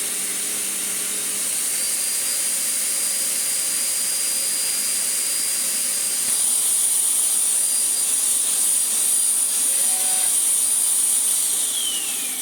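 A Sebo Airbelt K1 vacuum cleaner motor runs steadily, a loud continuous high-pitched whirring whine with a faint shifting tone, close by and uninterrupted, with no voices.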